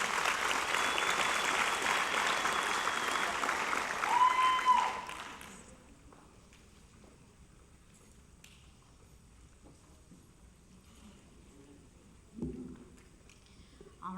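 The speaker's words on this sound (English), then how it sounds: "Let's give them all a big round of applause again." Applause from the audience at Sonora's 2013 5th grade graduation, a dense, loud wash of clapping for about five seconds that cuts off sharply, leaving a quiet room with faint shuffles and a brief bump later.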